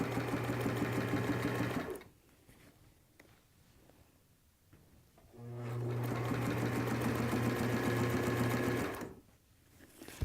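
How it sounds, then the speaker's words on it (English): A sewing machine back-stitches the edge of a fabric hat in two steady, loud motor runs of a couple of seconds each, separated by a quiet pause while the work is handled, all close up and with no talk. "so I'm going to back stitch it again so it secures it"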